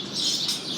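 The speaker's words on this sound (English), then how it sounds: "Some incredibly noisy birds here right now." Noisy birds chirp loudly at L'Enfant VRE station, a train station, in a short burst of bright, shrill calls over steady background hum.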